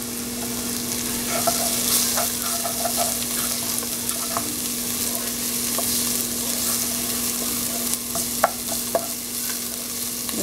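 Onions frying with a little turmeric being stirred in a pan, a steady sizzle under a low hum with scattered scraping and clicking of the spoon, growing busier toward the end, with no talk.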